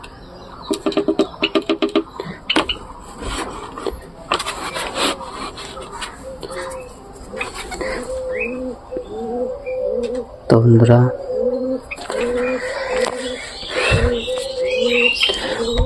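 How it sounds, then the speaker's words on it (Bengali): Pigeons kept in pots and boxes coo in low, repeated throaty phrases close by, mixed with scraping, wooden knocks and someone talking. "এই কবুতরগুলোকে আমি খেতে দেবো"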